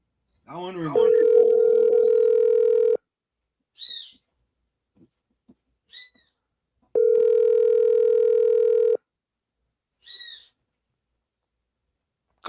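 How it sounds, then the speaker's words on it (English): Two long ringback tones of an outgoing phone call repeat about four seconds apart, loud and steady, with brief spoken remarks in the gaps. "That one ringing."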